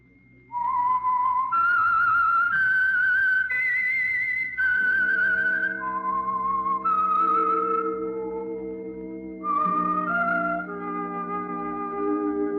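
Signature whistle of The Whistler, an old CBS radio drama: a loud, clear solo whistled melody of sustained rising and falling notes, joined midway by a low orchestral backing.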